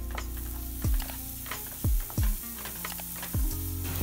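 Onion frying with ginger-garlic paste in a pan, a continuous close sizzle broken by several sharp scraping strokes of a spoon against the pan.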